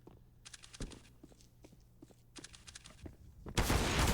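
CS:GO gunfire in a professional match on the Mirage map: two quick rattling bursts of rifle shots with footsteps between, then a loud sustained blast at the end.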